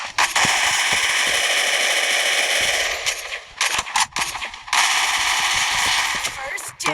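In the Free Fire video game, MP5 and SVD gunfire comes as loud, dense, rapid automatic bursts with a few short pauses, and people talk over the shooting.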